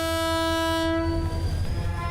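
Train at a station sounding its horn: a loud, sustained blare that cuts off after about a second, leaving a deep rumbling of the train.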